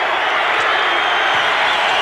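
Arena crowd cheering and roaring steadily at a 1988 McDonald's All American high school basketball game at Kemper in Kansas City, a dense, continuous wash of noise with no clear breaks.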